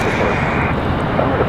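A PSA CRJ 701 regional jet arriving at Raleigh Durham airport gives a brief, loud, close engine roar with dense broadband rumble and a steady high whine.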